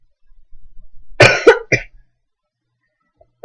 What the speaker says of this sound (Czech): Promiňte, že kašlu